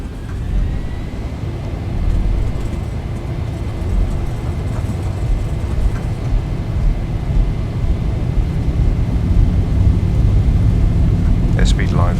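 Boeing 737 jet engines spool up for takeoff in the X-Plane 11 flight simulator, a steady broadband roar that builds and holds, with a faint rising whine and a few brief clicks near the end.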